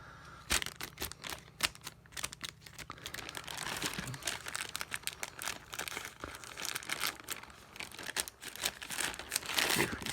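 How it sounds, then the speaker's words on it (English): Scissors snipping and tearing through Amazon cardboard packaging, close and continuous with dense crinkling, crunching cuts and rustling over about ten seconds, no speech. "let me use scissors right here."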